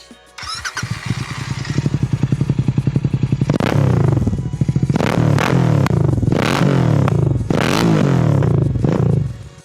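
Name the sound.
motorcycle aftermarket exhaust revving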